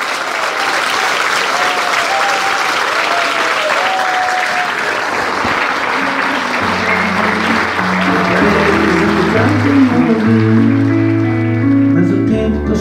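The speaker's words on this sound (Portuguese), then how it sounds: "Um forte aplauso para o artista, o compositor, o músico, o homem," A concert audience gives loud, sustained applause for a singer at a live show in the Algarve; music with sustained tones begins under the clapping about halfway through.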